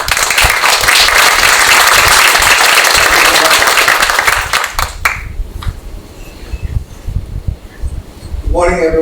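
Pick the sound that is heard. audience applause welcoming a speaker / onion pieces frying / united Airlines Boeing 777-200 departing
audience applause welcoming a speaker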